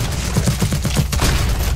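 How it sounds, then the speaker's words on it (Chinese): Continuous loud automatic gunfire in CS:GO zombie escape on the Rampage map, weapons shooting through wooden boards in a tight, rapid volley for the full short burst. "来，我们隔着木板开枪"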